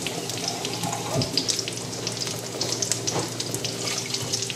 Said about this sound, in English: Let's get some water to top that up with.